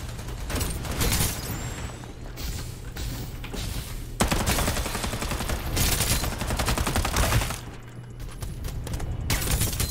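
Shotgun blasts from a spider mech in the Farlight 84 battle royale game, repeated heavy shots and mechanical clatter in loud continuous bursts with brief lulls.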